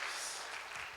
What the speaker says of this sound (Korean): 우리 하나님 앞에 영광의 박수 한번 올려드릴까요?